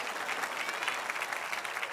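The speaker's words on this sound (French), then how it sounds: "je vous laisse applaudir" Audience applause at a French-language talk on relationships, a soft, steady patter of many hands clapping heard from some distance for a couple of seconds.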